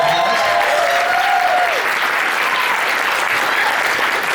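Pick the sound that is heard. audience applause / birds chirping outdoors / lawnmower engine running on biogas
audience applause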